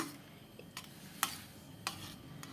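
Gram flour batter for kadhi being stirred in a pot with a spoon, a few soft scraping strokes and light clinks spread out over quiet background.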